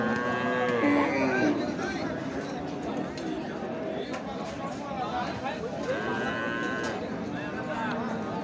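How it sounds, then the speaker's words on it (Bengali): Cows and calves, including a Sahiwal calf with its cow, at a busy outdoor cattle market, with repeated nearby moos over constant crowd chatter and people talking. "এ পাশে একটা শাহিওয়াল বাছুর দেখছি সাথে গাভী"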